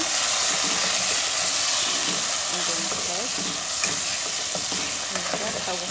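Spices being stirred into frying chicken for biryani, a steady close sizzle and hiss with scraping stirring strokes throughout, a voice speaking briefly over it.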